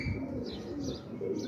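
Pigeons cooing softly at close range, low repeated coos with faint chirps above them, and no voices.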